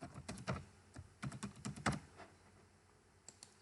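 Fingers tap a password on a computer keyboard, a quick burst of soft, close keystrokes, a pause, then a couple of final key presses in a quiet room.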